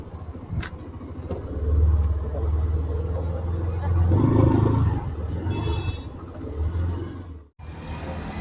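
A car engine idles and rumbles at close range outside at a crowded hillside site at Malanggad where parking is full, a steady low drone lasting several seconds before cutting off abruptly.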